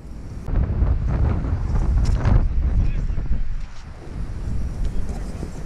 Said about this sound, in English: Gonna blow out everyone's earphones because of the wind.